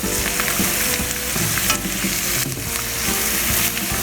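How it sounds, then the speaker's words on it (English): Food frying in bacon grease crackles and sizzles loudly in a cast iron skillet while being stirred, with scraping spoon sounds over the steady hiss. "Give it a little stir."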